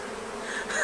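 Bees buzz steadily and close around a beekeeper, a continuous insect drone that rises slightly toward the end, with no talking.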